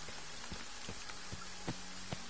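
Steady outdoor rainfall in summer, a continuous wash of hissing drops with occasional sharper taps landing nearby, moderately quiet and unbroken, with no one speaking.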